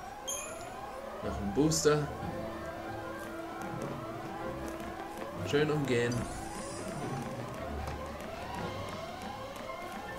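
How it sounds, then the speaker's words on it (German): A siren wails in the Final Fantasy XIII video game, a repeating rising tone that sweeps up steadily over and over at moderate level, with someone talking over it. "Diese Sirene."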